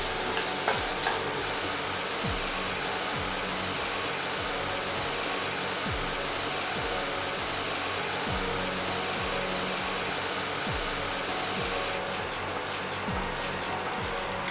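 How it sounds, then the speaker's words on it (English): Mint mushroom rice is sautéed in gravy in a pan, giving a steady, close sizzle and frying hiss for the whole stretch, with repeated stirring scrapes at a loose rhythm and no talking. "Saute this till the rice is completely and evenly covered in the gravy."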